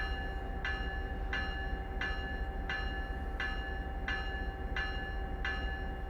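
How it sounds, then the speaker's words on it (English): A commuter train door chime in Train Sim World 2 on the Peninsula Corridor, dinging at a steady, evenly spaced rhythm about every two-thirds of a second over a constant low hum, heard alone. "Passengers want to get on board now to stop the dinging."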